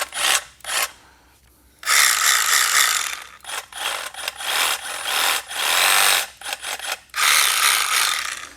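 A Milwaukee M18 cordless power saw runs in several loud, raspy bursts, starting and stopping with short pauses between, close by.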